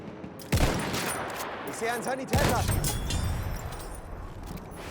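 Rifle shots ring out in the video game Battlefield 1, two sharp loud cracks a couple of seconds apart, each trailing off into a rumbling echo, with scattered distant battle noise and a brief voice between them.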